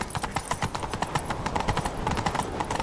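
Horse hooves gallop in The Witcher 3 video game, a quick, rhythmic clip-clop of hoofbeats that stays close and fairly even across the short stretch, with no talking over it.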